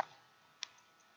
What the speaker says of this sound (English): We'll click on Add.